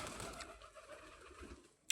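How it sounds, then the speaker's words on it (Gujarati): A pigeon coos softly at a farm well, faint and somewhat distant, with low murmuring calls against quiet outdoor background and a sharp click right at the end. "કબૂતર"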